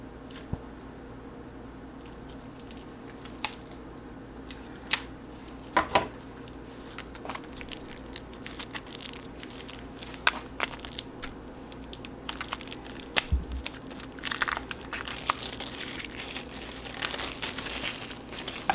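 Plastic and paper packaging on a deck of Celtic Lenormand cards being opened up close, a long stretch of soft crinkling and scattered sharp crackles and taps over a quiet steady background hum.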